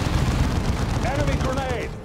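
Gunfire and explosions in Dawn of War 2, a dense rumbling barrage with voices shouting over it, loud and continuous.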